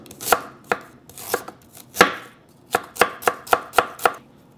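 Ginger being chopped with a knife on a cutting board, a series of sharp, close, distinct chops in irregular bursts, quickening toward the end, with no talking.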